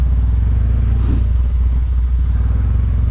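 A 2019 Honda CB500X motorcycle idles and rolls at low, steady speed during a slow balance drill, its constant engine rumble loud and close with a slight clatter throughout.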